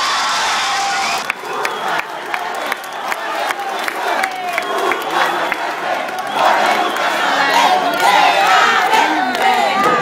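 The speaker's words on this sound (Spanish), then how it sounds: "Y al finalizar, la porra y los aplausos." A crowd of children and young people breaks into a loud group chant and cheering, then claps and shouts steadily at a public reading event in Mexico City's legislative assembly.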